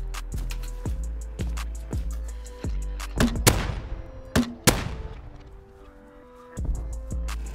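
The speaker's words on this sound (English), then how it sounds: "You guys hear some gunshots going off." Gunshots in a raiding survival video game: a series of loud, sharp booming shots with long decaying echoes, irregularly spaced and heavier in the middle, heard alone without talk.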